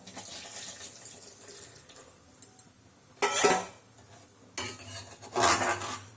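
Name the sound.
coconut milk being poured into boiling tamarind kuzhambu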